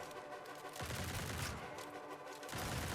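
Shotgun blasts in a grimdark survivor video game come as a dense, continuous barrage of overlapping booming shots, loud and steady with no pauses across three seconds.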